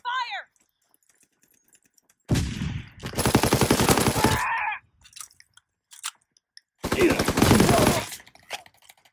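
Automatic gunfire in a WW2 video game map, two long rapid bursts of fast repeated shots, loud and close, separated by a short pause with brief voices and faint clicks between.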